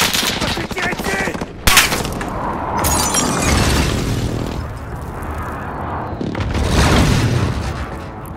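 Heavy explosions and gunfire from a precision airstrike in Call of Duty Warzone at Arklov Peak military base, loud booms and crackling blasts rolling through the whole stretch with sharp bursts near the start and end.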